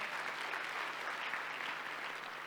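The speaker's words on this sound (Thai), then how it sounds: "ปรบมือให้ระบบของอาตมีครับ" An audience claps steadily through a dense wash of applause at a business presentation. The clapping is sustained and even, at moderate distance, with no voices over it.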